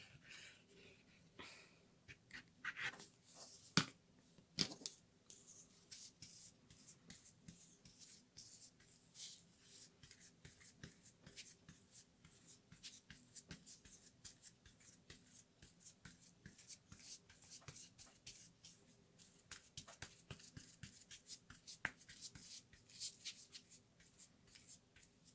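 Soft scratchy brushing as a brush spreads glue across an advent calendar craft, faint and close, with irregular strokes and rustles and a few louder taps.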